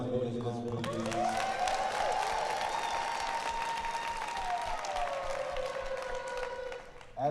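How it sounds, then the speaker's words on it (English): A room of voters at a North Carolina Central University town hall applauds steadily and loudly for about seven seconds, dense clapping filling the space with a sustained, slowly rising and falling tone running beneath it. "let me give a round of applause for everyone that has voted in this room"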